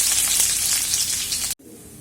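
Chopped garlic dropped into hot oil with mustard seeds and ginger for a Kerala-style lemon pickle, giving a loud, bright crackling sizzle that cuts off abruptly near the end.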